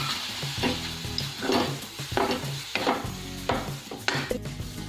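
Makhana barfi mixture being stirred in a pan on a slow flame, a spoon scraping in regular strokes about once every half second over a soft sizzle, close and without talk.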